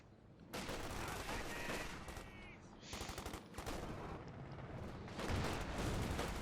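Battle noise from Company of Heroes 2 as an American Pershing tank fires on German grenadiers: dense, loud bursts of gunfire and booming shots roll on almost without pause.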